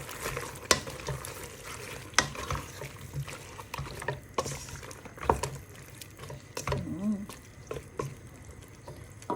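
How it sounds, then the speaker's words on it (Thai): Thai chicken green curry being stirred in a pot after fish sauce goes in, soft liquid sloshing and faint sizzling with a few sharp clinks of the utensil against the pot, quiet and close. "แล้วก็คนค่ะ"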